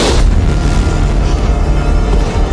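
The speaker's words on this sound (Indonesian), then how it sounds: "pintu ruangan tersebut pun meledak" Door blowing open in a film explosion, a loud, dense boom whose rumble fills the whole moment and fades only slightly.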